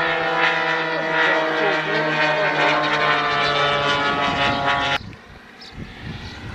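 A small model airplane propeller engine buzzes loudly and steadily at a high pitch, then cuts off abruptly, leaving faint background noise.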